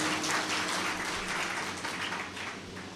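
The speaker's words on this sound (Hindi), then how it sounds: "एक बार जोरदार तालियां बजाएं।" An audience at an evening kavi sammelan in Rampur applauding, a steady, dense wash of clapping at moderate volume that stays even throughout.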